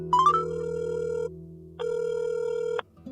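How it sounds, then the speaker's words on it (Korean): A phone ringback tone heard while calling a friend: two steady electronic rings, each lasting about a second, separated by a short pause, clear and close with no talking. "한참 동안 통화 대기음만 들리다가"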